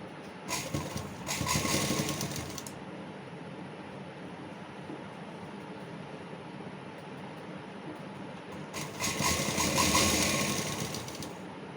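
A sewing machine stitches a strip on a child's kurta, two short bursts of fast, steady whirring, one near the start and one near the end, separated by a long stretch of quiet background hum.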